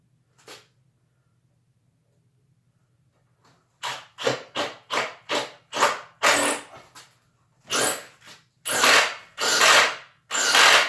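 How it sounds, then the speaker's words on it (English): Deck screws driven into wood with a Kreg pocket hole jig: a quick series of sharp, close power-driver bursts after a brief click, each burst rising and cutting off, later bursts longer and louder, with no talking. "Now I'm just going to throw some of these deck screws in here."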